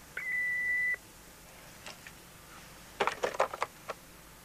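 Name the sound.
answering machine beep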